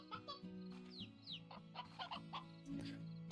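Chickens cluck in the Slime Rancher video game, a series of short, close clucks and squawks repeating over a faint musical background.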